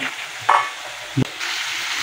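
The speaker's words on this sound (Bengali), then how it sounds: "মাছটা একটু মশলার মধ্যে একটুখানি ভালো করে কষিয়ে নিতে হবে হালকা করে" Jeol fish being fried and stirred in a cumin-paste spice masala in a pan, a steady sizzle with two short louder bursts from stirring, no talking.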